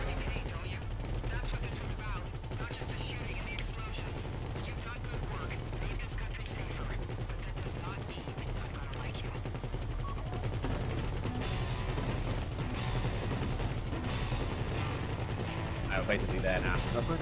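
Video game gunfire from a GTA heist crackles in scattered bursts under a dense, noisy mix of game sound, steady and moderately loud throughout.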